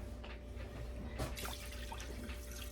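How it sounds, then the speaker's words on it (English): Two cups of water poured into a pan for a Tex Mex taco bake, a soft, faint trickling and splashing over steady background hiss, with no talking. "I'm just going to put 2 cups of water in here"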